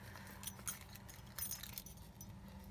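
Keys jangle and clink inside a 1991 Mercedes-Benz 190E 2.3, a close, bright metallic rattle with a few sharper jingles over a low cabin hum.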